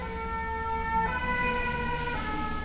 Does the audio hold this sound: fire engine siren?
yes